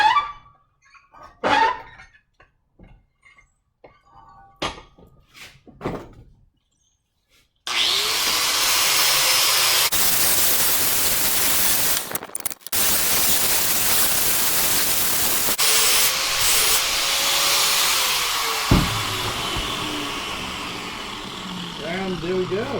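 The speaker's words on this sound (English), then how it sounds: "And grind it flat." A kitchen knife blade is ground flat on a grinder: after a few seconds of clattering handling noises, a loud, continuous harsh rasp runs steadily for about fifteen seconds with brief dips in intensity.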